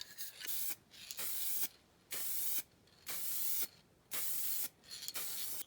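A spray can applies pre-mixed BMW Calypso Red paint to a die-cast Cadillac base in five or six close, short hissing bursts separated by brief pauses.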